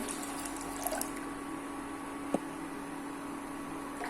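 Water is poured into a cooking pot set to heat for white gravy, a faint steady splashing trickle with a single small clink partway through.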